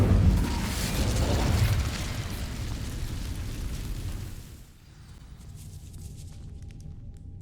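In Hogwarts Legacy, an Incendio fire spell ignites dry vines with a loud, rumbling whoosh that holds for several seconds, then fades to quiet ambient hum and faint crackling.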